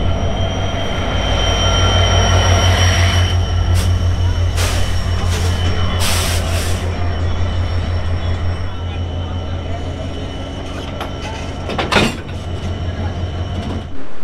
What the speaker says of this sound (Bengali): এবার আসবে আমাদের বেনাপোল এক্সপ্রেসের ইঞ্জিন